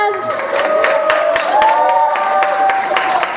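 Audience applause and cheering for third-place winners at an Isra Mi'raj celebration evening, a sustained wash of clapping with whoops and crowd voices, loud and continuous throughout.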